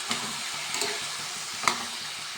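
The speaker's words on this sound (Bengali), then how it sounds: "এইবারে কাঁচা লঙ্কা থেঁতো করে সুন্দর করে দিয়ে দিচ্ছি। এটাও সুন্দর করে মেশাতে হবে।" Crushed green chilies are stirred into a curry mixture frying in a pan, a steady close sizzle with soft rhythmic scrapes of the spoon and one sharper clink, no voices.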